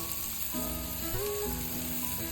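Garlic, ginger and sweet corn fry in a pan alongside carrot and capsicum while a ragi flour soup is cooked, giving a steady close sizzle with light stirring scrapes and no talk.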